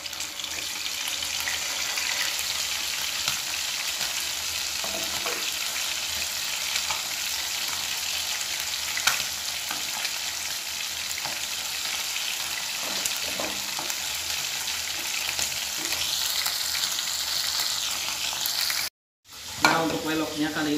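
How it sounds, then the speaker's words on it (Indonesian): Chicken frying in a pan sizzles and crackles steadily throughout, with faint clatter and stirring, and a brief dropout near the end. "Ayamnya goreng tanpa basa-basi, langsung goreng ayam ya."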